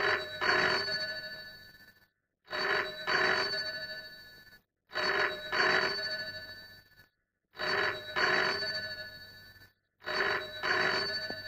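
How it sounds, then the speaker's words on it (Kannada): A telephone bell rings in repeated double bursts, four full cycles separated by short silent gaps, loud and steady with no talk over it, in an Indian action film scene. "ಈ ಟೆಲಿಫೋನ್ ಗಂಟೆ ಮೊಳಗ್ತಾನೇ ಇರ್ಬೇಕು."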